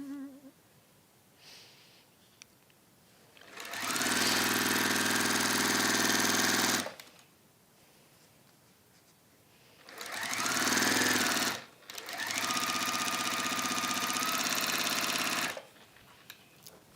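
A sewing machine stitches fabric for a waxed warmer in three loud, close, rapid runs of stitching, each lasting a few seconds and separated by near silence.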